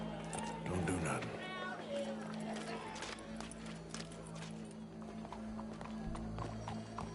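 Horse hooves clip-clop in Red Dead Redemption 2, a quick run of footfalls early, then quieter scattered steps under faint background sound.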